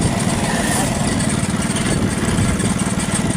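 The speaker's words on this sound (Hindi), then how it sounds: "ये मोटरसाइकिल है" A motorcycle engine runs steadily and close by on a country road beside a canal, a continuous mid-to-low rumble with a fairly even, unbroken loudness throughout.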